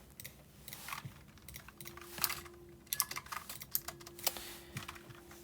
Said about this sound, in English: So let's write those in our calculator.